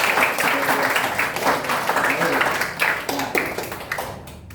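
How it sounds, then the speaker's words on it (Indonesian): Classroom applause during a teaching session, a continuous dense patter of many hands clapping at close range that fades out at the end. "kita beri tepuk tangan dulu buat teman-teman kita"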